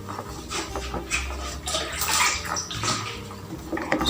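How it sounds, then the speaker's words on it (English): Water pours and splashes steadily into a homemade hair conditioner mixture in a container close by, rushing and gurgling with no one speaking. "So I'm still adding more water here."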